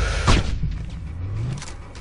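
A single sharp, booming sniper rifle gunshot in the game Sniper Ghost Warrior rings out near the start, followed by a rumbling tail and some low game-like ambience.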